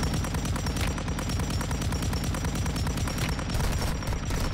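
Rapid automatic gunfire in the mobile shooter Warzone Mobile, shots fired through a wall at an enemy behind a fence; a dense, steady burst of closely spaced reports lasting several seconds, loud and continuous with no talk.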